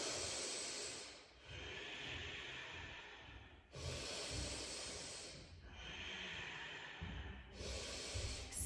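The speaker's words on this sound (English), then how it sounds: "5 nice deep breaths here." Deep, slow breathing during yoga pranayama, with three long, close, hissing breath cycles separated by brief pauses and no talking.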